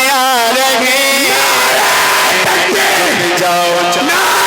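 A crowd at an All India Natiya Mushaira in Azamgarh loudly chants slogans in unison, with sustained shouted voices that rise and fall in rhythmic waves, close and dense.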